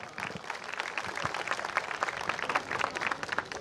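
Audience applause at a Buddhist community get-together in Gandhinagar, a steady dense wash of many hands clapping at moderate volume throughout, with no pauses.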